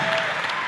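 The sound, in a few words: concert audience cheering for a snare drummer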